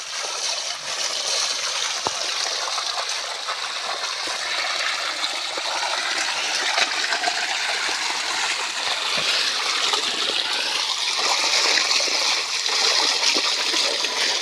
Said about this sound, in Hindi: पाइप में पानी आ रहा है,